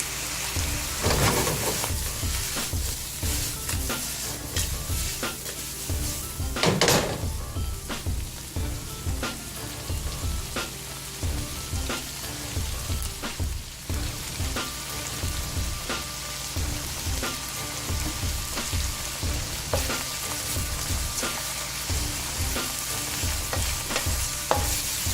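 Shrimp fry hard in a pan and get stirred, a loud continuous sizzle close up with frequent rhythmic scrapes and clacks of the utensil throughout.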